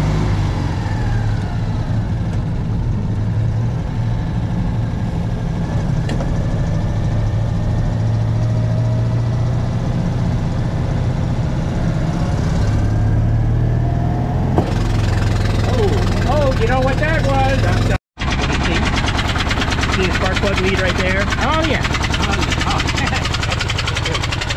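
A Citroën 2CV's small engine runs steadily throughout, a loud, close, buzzing drone, with a brief cut near the end before it carries on.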